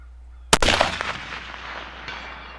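A single loud, close Howa rifle shot fired at a target in an open setting, a sharp crack followed by a rolling echo that fades over about two seconds.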